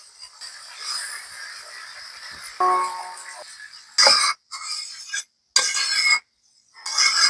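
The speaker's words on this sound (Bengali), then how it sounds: "আমি এখন ঝোলের জন্য জল দিয়ে দেবো" Water goes into a pan of fried curry spices for a choi jhal sorshe pabda (mustard pabda fish) curry: a close stirring clink and pour, then sharp bursts of hissing, spluttering and scraping broken by brief silences.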